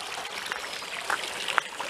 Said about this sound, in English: Crystal clear streams.